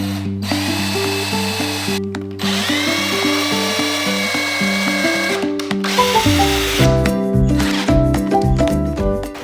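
A power drill drives screws into wood for a DIY raised garden bed, its motor whining in repeated loud bursts with short pauses between runs and rising pitch as each screw spins in.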